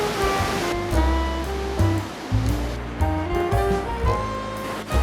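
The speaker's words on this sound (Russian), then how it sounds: "Рядом шумит река Марсьянди." Marsyangdi river in Nepal rushing through forest beside a mountain trail, a loud, steady broadband roar of water with background musical tones layered over it.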